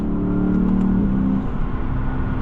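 A 2016 Lexus GS F V8 engine accelerating, a loud, close mechanical roar whose pitch climbs steadily, then drops as the car shifts and eases off.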